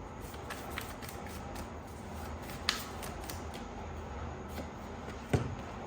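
Tarot cards being shuffled and drawn, soft papery riffles and flicks with a few sharper snaps, faint and close in a quiet room.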